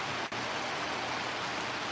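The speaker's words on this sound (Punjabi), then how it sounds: "ਬਹੁਤ ਜ਼ਿਆਦਾ ਮੀਂਹ ਪੈ ਰਿਹਾ ਹੈ" Dense, steady hiss of heavy rain falling, even and unbroken for a couple of seconds.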